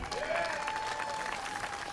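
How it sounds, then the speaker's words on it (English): An outdoor political rally crowd applauding, dense steady clapping heard at a distance with a faint whistle or cheer rising through it. "How about a nice round of applause for Tommy,"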